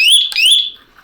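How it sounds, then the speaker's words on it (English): Detex alarm lock giving a short electronic beep right after its battery is installed, two quick high chirps close up in a quiet room. "it'll make a little beep when you get the battery installed"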